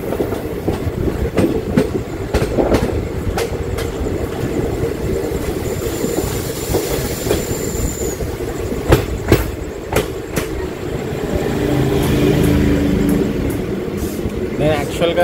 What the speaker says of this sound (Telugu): మేడ్చల్కి వెళ్ళే ప్యాసింజర్